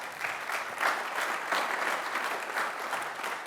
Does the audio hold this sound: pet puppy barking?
no